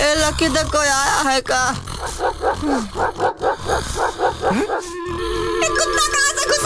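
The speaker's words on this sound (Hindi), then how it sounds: "बाहर कुत्ता भौंक रहा है।" A dog barks outside in a rhythmic run of about a dozen short barks in the middle, heard amid a cartoon children's TV scene with voices and music before and after.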